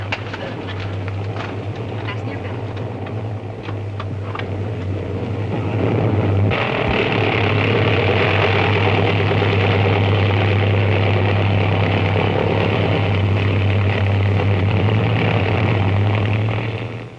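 Propeller airplane in flight, a loud continuous engine drone with a low steady hum that swells and thickens partway through, constant cabin-like roar with no talk over it.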